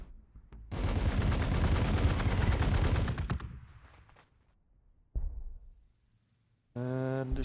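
A long burst of rapid automatic gunfire in the Warhammer 40k Gladius video game, loud and dense for about three seconds, then fading, followed by a short sharp blast and a tonal synthetic effect at the end.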